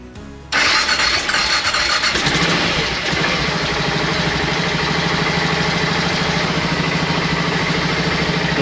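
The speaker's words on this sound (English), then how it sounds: "I can just start the bike and see what it's doing now" A BMW F650GS motorcycle fitted with a new sensor cranks briefly, fires up with a loud burst and settles into a steady, close idle that continues to the end.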